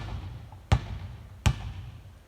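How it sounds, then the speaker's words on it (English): A ball dribbled by hand during a practice drill: two sharp, close bounces about three quarters of a second apart, each a hard thump on the floor, with quiet room noise between and no talking. "So you don't want to be making that much noise with your hand when you're dribbling."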